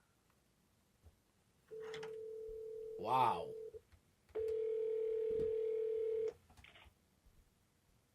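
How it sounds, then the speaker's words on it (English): Telephone line tones after a dropped call: a steady dial tone, a burst of quick dialing tones, then another long steady tone, with a short exclamation spoken in between. "The phone actually hung up on us."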